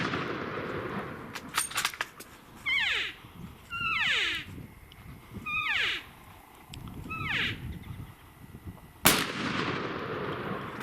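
A loud gunshot on a hunt rings out near the end, one sharp blast with a long rolling echo, after several seconds of outdoor calls and rustling with no talk.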